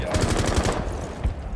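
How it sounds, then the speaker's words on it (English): Automatic gunfire in Rainbow Six Siege: a loud, close, rapid burst of about a dozen shots, then a pause and a couple more cracks. "Somebody just shot at me."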